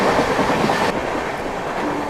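Rajdhani Express train running at about 100 km/h through Uttar Pradesh near Mirzapur, a steady loud rumble of wheels and carriages with rhythmic clickety-clack on the rails, heard from on board.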